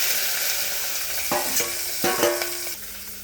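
Chopped onions and green chillies with tempering spices fry in a pan of hot oil for wheat rava upma, a steady close sizzle broken by a few scraping stirs of a spoon.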